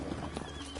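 Horse hooves clip-clop in The Witcher 3 video game, a short quick run of hoof strikes with a brief whinny, heard close and fairly loud with no talking over it.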